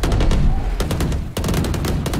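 Gunfire in the video game Valorant cracks in rapid bursts of close, loud shots with a brief gap midway, continuing in a quick steady rhythm.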